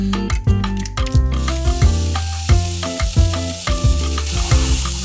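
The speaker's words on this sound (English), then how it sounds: "Just break up the chorizo as it cooks" Chorizo breaking apart as it fries in a hot pan, a steady sizzle with repeated stirring and scraping strokes close up, no voices.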